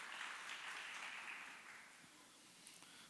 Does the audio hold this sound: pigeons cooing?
no